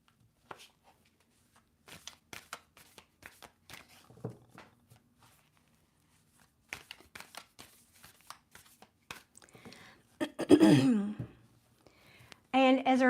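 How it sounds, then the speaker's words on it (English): Cards are shuffled in quick riffling bursts, soft and close, broken by brief pauses, with a voice speaking near the end. "I'm going to shuffle 3 times and cut the deck."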